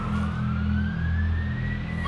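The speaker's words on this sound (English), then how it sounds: "Here's the ambulance." An ambulance siren wails in a Caracas street, a loud, steady, slowly rising tone over a low rumbling engine, with no voices.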